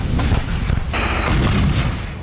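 Artillery cannons fire in combat between Armenia and Azerbaijan, with heavy, continuous rumbling booms and blasts that are loud and dense throughout with no pauses.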